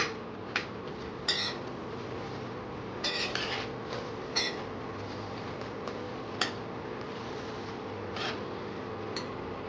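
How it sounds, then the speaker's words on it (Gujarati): A spoon scrapes and taps against a pan while paneer curry ingredients are stirred and mixed, giving scattered light metallic clicks and knocks over a soft steady background hiss. "હવે આ બધી વસ્તુ છે ને આપણે સરખી રીતે મિક્સ કરી લેવાની છે."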